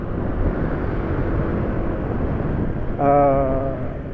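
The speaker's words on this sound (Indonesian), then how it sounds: "Setelah ganti oli itu suara mesin jadi lebih halus" Steady low idle of a Yamaha NMAX scooter engine on fresh Fastron Techno 15W50 oil, rumbling evenly and smoothly, with a brief rising whine near the end; close and fairly loud, no talking.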